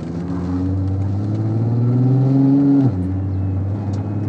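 A tuned VW Golf V R32 turbo with DQ500 gearbox and over 700 hp idles and warms up close by, a loud steady low engine drone that rises slightly in pitch before dropping back.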